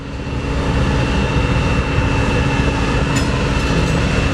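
BNSF C44-9W diesel locomotive 1118 hauling oil tanker cars in Spokane, Washington: a loud, steady, broad rumble of engine and rolling stock with a faint tonal hum throughout and a short metallic squeal near the end.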